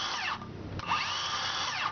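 A powerful circular saw runs in a hardware store, its loud motor whine rising and falling in sweeping spin-ups with a brief dip in between, heard close and alone.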